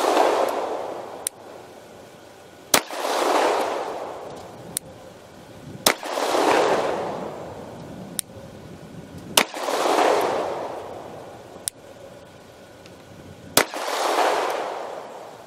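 Glock 48 9mm pistol shots at an outdoor range crack out one at a time at roughly two- to three-second intervals, each loud sharp report followed by a long rolling echo, nearby and without talk.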